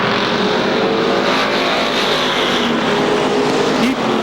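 Sportsman race cars roar around Seekonk Speedway late in a feature race, a loud continuous engine drone with cars sweeping past near the microphone and no talk over it.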